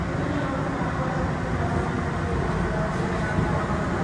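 Denver Airport underground train between concourses, a steady dense rumble and whir of the motors and wheels filling the car, constant and loud throughout with no voices.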